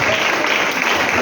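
A church congregation claps together at a year-end gathering, a dense, even wash of applause filling the brief moment, close and loud.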